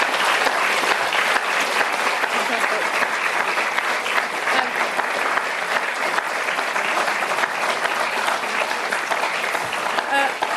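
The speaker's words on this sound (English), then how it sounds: "could everybody just give another round of applause" Sustained, dense applause from a lecture audience fills the room at the close of a public talk on the Garvellach Islands of Scotland, loud and steady throughout, with a brief spoken word over it.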